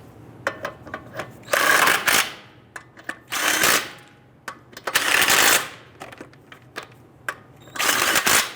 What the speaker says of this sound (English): get our lug nuts all started by hand,